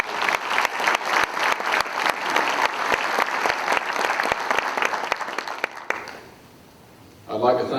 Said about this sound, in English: Let us all please show our appreciation with a round of applause for everyone who's worked so hard.